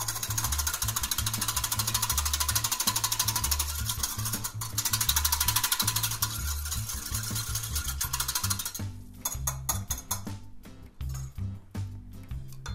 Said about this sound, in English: Looks like I'll need to get in there with a whisk to break up that oatmeal.